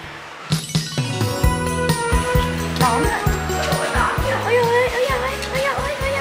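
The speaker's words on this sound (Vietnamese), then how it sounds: "Và được lên thăm và chơi cùng các bé cún" Puppies bark and yip in quick, overlapping bursts inside a busy dog café, the sharp calls fairly close and loud over a steady background of music and chatter.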